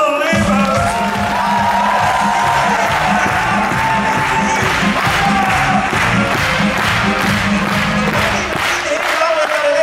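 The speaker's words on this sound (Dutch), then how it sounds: "Van jullie allemaal een daverend applaus voor onze eerste kandidaat" A large audience at a 2022 farewell show cheers, whoops and applauds loudly and continuously over rhythmic stage music for about ten seconds.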